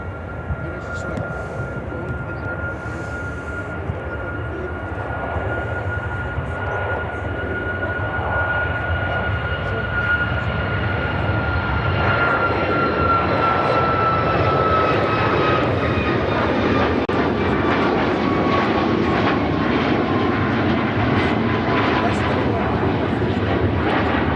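A United Airlines Boeing 737 MAX 9 takes off at Chicago O'Hare, its jet engines building into a loud sustained roar with a whining tone that shifts as it climbs away, while people talk nearby.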